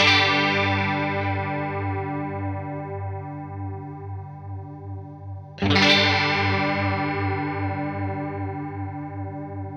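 Electric guitar run through a Behringer UC200 Ultra Chorus pedal in stereo, no delay: two sustained strummed chords, the second struck near six seconds, each ringing out with a shimmering, wavering chorus tone that slowly decays.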